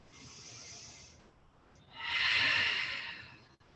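One big deep breath during a strap-assisted stretching session: a quiet, long inhale, a brief pause, then a fuller, louder exhale through the mouth, close to the microphone and alone.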